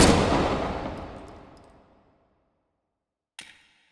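A single loud virtual shotgun blast from a SPAS-12 in a VR shooter, with a long ringing tail that fades over two seconds, then a brief sharper report after a pause; no voices.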